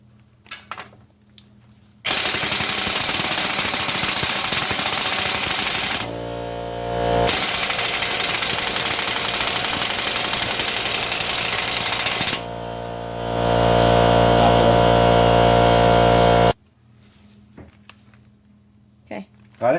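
Air impact tool rattling loose the front axle nut on a 2001–2006 Hyundai Elantra, two long loud bursts of hammering with a short pause between, close up, preceded and followed by quiet shop sounds.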